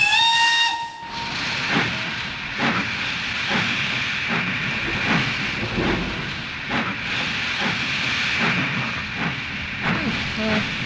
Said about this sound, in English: Just then, the guard blew his whistle,